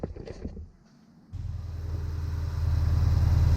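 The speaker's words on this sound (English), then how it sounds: "Let's go ahead and just turn it on real quick." After a brief crank, a car engine fitted with a Mopar cold air intake starts and settles into a steady, close, low idle that grows slightly louder over a few seconds.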